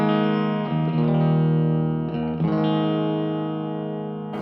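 Clean electric guitar played through an amplifier on a Kauffman Telecaster's bridge pickup with no effect, sustained chords ringing close and steady, re-struck a few times and slowly fading.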